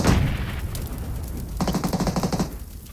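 Video game gunfire: a sharp shot opens, followed after a pause by a rapid burst of automatic fire with quick, evenly spaced cracks, fairly loud against a muffled background.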